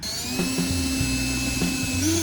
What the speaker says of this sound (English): We're using a 3/8 drill bit to do the countersinking